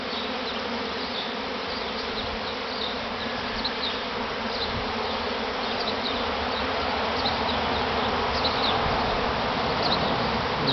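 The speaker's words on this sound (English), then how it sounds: "There's bees all around me now." A large honey bee swarm buzzes densely all around, a steady close humming drone filling the air continuously without any talk.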